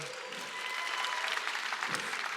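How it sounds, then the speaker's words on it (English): An audience at a convention applauds, a steady dense wash of many hands clapping, fairly loud and sustained throughout. "I think we need a louder round of applause"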